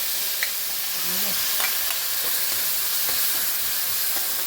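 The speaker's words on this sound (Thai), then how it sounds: "ตั้งน้ำมันคือเดือดแล้วก็ใส่เครื่องที่เขาตำลงไปเลย" Pounded chili paste frying in boiling hot oil gives a loud, continuous hiss and sizzle, close up, with a few faint clinks and scrapes from stirring; no voices.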